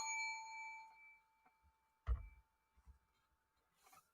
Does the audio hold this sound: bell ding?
yes